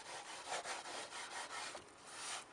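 Varnish layer on a painting rubbed down by hand to dull the sheen, a close, faint, steady back-and-forth scuffing with a rhythmic rasping texture throughout.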